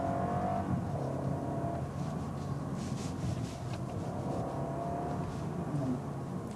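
A 2023 BMW 320i M Sport driving downhill, its engine droning steadily with rising and falling revs through gearshifts, a continuous moderately loud cabin sound with no talk.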